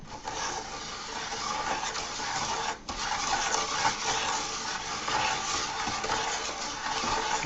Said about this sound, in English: Now we're going to stir some of that sugar in.